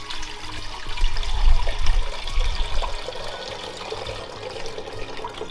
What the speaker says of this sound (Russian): В кастрюлю выливаем воду.